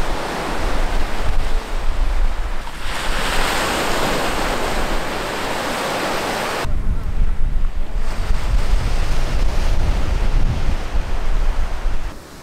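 Steady wind buffets the microphone over broken surf washing onto the gravel beach at Enjugahama during a February fishing trip, loud and continuous, with a brief shift in tone midway as the wind gusts and eases.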